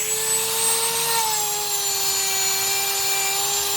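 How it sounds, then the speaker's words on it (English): Power tool grinding metal off a Royal Enfield Himalayan motorcycle side stand, a steady high whine with a faint pitch drop partway through, loud and continuous. "Just scrubbing off some metal to make space for the stand."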